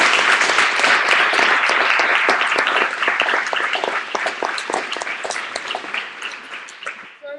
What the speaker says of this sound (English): So if you could give your leadership a huge round of applause